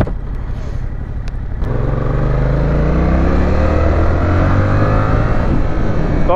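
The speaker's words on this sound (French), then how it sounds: "Par contre qu'est-ce qu'il est rageur ce moteur." A 2021 Yamaha Tracer 7 motorcycle in A2-restricted form revs hard as it accelerates, its engine note climbing steadily through the gears from a quieter start, loud and close throughout.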